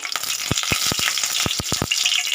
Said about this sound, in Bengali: দেব তেজপাতা একটা মানে একটু ছেঁড়া